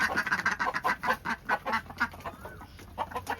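Domestic ducks in a duck house quack loudly in a rapid, busy run of calls, with some clucking mixed in, close by and without talk.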